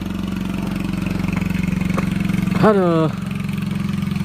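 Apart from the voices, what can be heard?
motorcycle engine revving on steep uphill road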